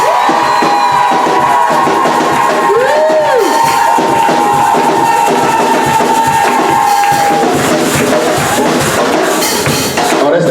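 Church congregation shouting and cheering for joy during a worship service, a loud sustained mass of voices with a long sung or held tone over the crowd noise.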